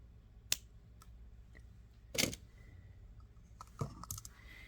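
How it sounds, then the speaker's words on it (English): Small sharp snips of jewellery wire being cut with a cutting tool while making a necklace, a few separate crisp clicks close by in a quiet room. "cut the wire off"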